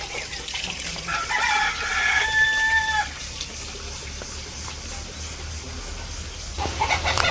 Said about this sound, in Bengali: তো মুরগিরে পানি দিয়ে ডিমগুলা উঠে নিয়ে আসি।